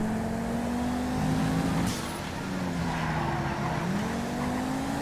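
A Squaddy car races in the FiveM driving game, its engine droning and shifting pitch steadily as it accelerates and eases off, loud and close with a brief high squeal midway and no talking.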